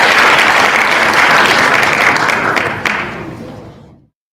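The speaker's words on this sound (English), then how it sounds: "Big round of applause for Mr." A live comedy-show audience bursts into loud, dense applause for a performer, holding strong for about three seconds before tapering and cutting off.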